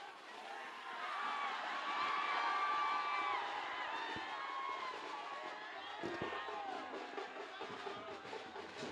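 A large crowd cheering and shouting at a public event honouring a film star, with a dense, sustained roar of voices and whoops heard from a moderate distance, swelling early and then holding steady.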